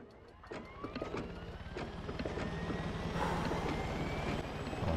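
Steady whirring engine and rotor drone of a helicopter in flight in the video game Far Cry 6, loud and continuous, building slightly toward the end, with no talk over it.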